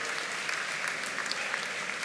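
Audience at a TGS Toulouse 2019 conference panel with Charmed actors applauding: continuous, dense clapping from a big crowd, steady and fairly loud throughout with no pauses.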